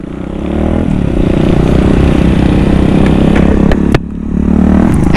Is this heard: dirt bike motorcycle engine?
yes